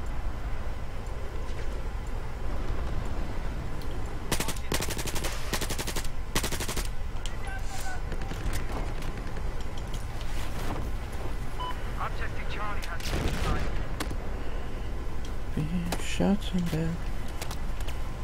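Battlefield 4 gunfire crackles in bursts of rapid automatic shots, some loud and close, others distant, with someone talking over the action throughout.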